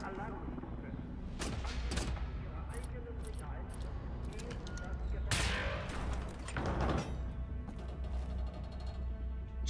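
Gunfire in Wolfenstein: The New Order, with several sharp bursts and heavy shots spread through a busy game battle, loudest around the middle, over constant background noise.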